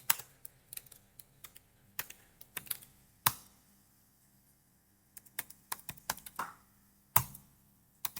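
Computer keyboard keys clatter close by as commands are typed, bursts of quick clicks separated by brief pauses, with a few harder single strikes like the enter key, and no one speaking.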